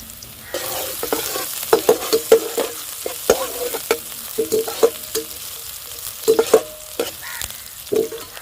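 Onions sizzle in hot oil as they are tempered for shark fish puttu, with a constant close hiss broken by frequent rhythmic scrapes and clanks of a spoon stirring the pan.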